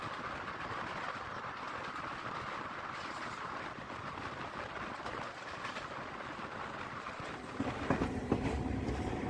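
A DEMU passenger train on the Kolhapur to Miraj line rumbles steadily, heard from on board, with continuous wheel and carriage noise and faint clickety-clack, growing slightly louder toward the end as it nears Rukdi station.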